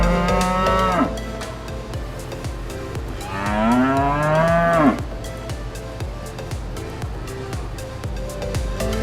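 Cattle moo repeatedly on a farm where the cows are fed rice and fermented hay, with several long, loud lowing calls, one rising and falling prominently in the middle.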